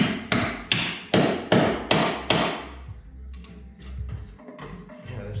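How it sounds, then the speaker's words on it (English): An air hammer strikes metal near a weld in six loud, sharp, evenly spaced blows, then a few fainter taps follow over a low hum. "And I can't do it without the air hammer."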